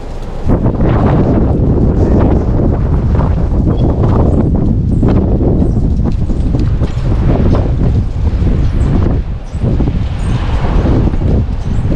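Strong wind in Bar Harbor, Maine, buffets the microphone continuously, a loud roaring rush that gusts and rumbles without pause.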